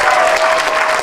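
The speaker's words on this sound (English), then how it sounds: "he deserves a big round of applause." An audience claps in a brief, dense round of applause, steady and close throughout the short burst with no talking over it.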